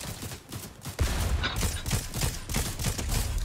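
Repeated gunshots and automatic fire rattle in quick irregular bursts in Fortnite, loud and close, with a few mechanical clicks mixed in.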